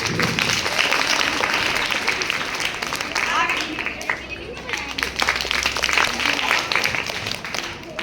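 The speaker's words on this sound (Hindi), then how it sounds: "अपनी ताली बजा दो" Students in a classroom clapping together during a maths lesson, a dense, busy patter of many hands throughout, with voices mixed in beneath.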